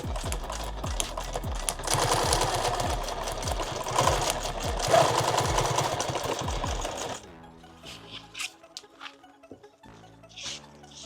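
A sewing machine stitches PALS webbing onto a padded war belt in OD green, with a fast mechanical chatter in bursts that rises, pauses and then gives way to quieter handling noises.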